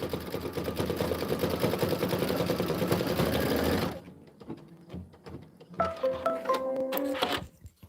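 A sewing machine stitches a quilt block in a rapid, even mechanical whir for about four seconds, then stops, followed by scattered clicks and brief short bursts of running.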